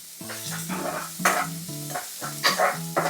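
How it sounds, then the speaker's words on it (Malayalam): Onion, shallot, garlic and dried red chili being stirred together in a frying pan, with repeated spoon scrapes in an irregular rhythm over a steady sizzle, close and moderately loud, no voices. "ഇതെല്ലാം കൂടെ ഇട്ടിട്ട് ഒന്ന് മിക്സ് ആക്കണം"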